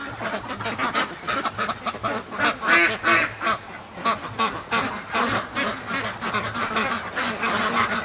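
Free-range ducks and geese at a lake quack and honk together in a dense, continuous chorus, the calls overlapping in rapid bursts that swell and ebb, close and loud with no pauses.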